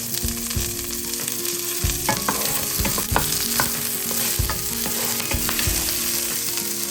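Garlic and white onion frying in a pan, a steady close sizzle broken by repeated scraping and stirring strokes, with no talking.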